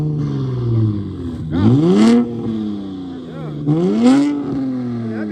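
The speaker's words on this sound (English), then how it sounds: "rev one more time" An Infiniti Q50 with a muffler delete revs twice in quick succession, loud and nearby, each rev rising sharply then dropping back to a rough, rumbling idle between pulls, with people talking in the background.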